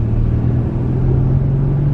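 A motorcycle engine rumbles close by, a steady low throaty drone holding for about two seconds without clear rise or fall.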